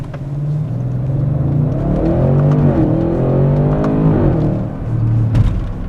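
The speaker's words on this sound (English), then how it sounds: "I'm gonna see how this car accelerates." A 2023 Audi RS6 station wagon accelerates hard, its engine note climbing loud and close through several gear changes, each shift briefly dipping the pitch before the roar builds again.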